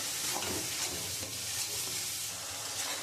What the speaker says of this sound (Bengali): এখানে নুন, হলুদ, জিরের গুঁড়ো, ধনের গুঁড়ো, এই মশলাটা দিয়ে আমি এবার খুব সুন্দর করে কষাবো।